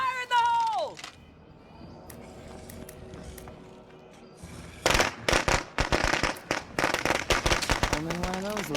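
An explosive thrown in State of Decay 2 goes off as a loud burst of rapid firecracker-like pops and crackles lasting several seconds, after a shout and a quiet pause, with a voice returning at the end.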